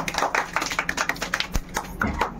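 A small group clapping for a child's first prize at a home Ganesh Chaturthi drawing competition, quick irregular claps close by with a few sharper taps.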